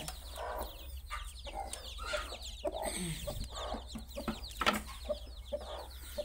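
Hens clucking and chicks peeping close by, steady chatter of fowl over a low hum.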